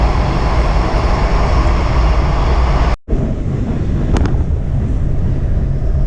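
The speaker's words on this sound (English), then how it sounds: "we are arriving into downtown Largo Station, end of the Silver Line as well as the Blue Line." A Metro Silver Line train pulls into Largo Station, a steady loud rumble and roar of rail cars from inside the carriage with a brief dropout and faint high squeals as it slows.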